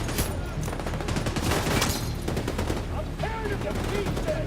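Enemy gunfire rattles in The Division 2, with rapid bursts and overlapping shots forming a dense, continuous barrage, loud and close, plus a few faint electronic tones near the end.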